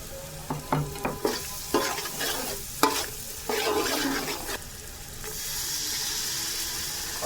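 Ground spices and tomato frying in a pan, with a sizzle and clacking stirring strokes in quick bursts, then a steadier hiss of liquid cooking toward the end.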